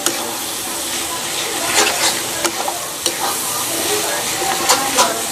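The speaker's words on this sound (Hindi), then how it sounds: "ये रहा हमारा चिकन स्किन भुना रहा है।" Chicken skin fries in a pan, a steady close sizzle and crackle that fills the whole stretch, with occasional stirring scrapes rising above it.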